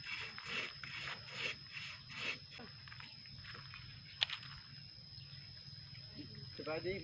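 Rhythmic rasping strokes of a hand saw cutting through wood, several back-and-forth pulls up close, with a sharp click partway and faint background voices.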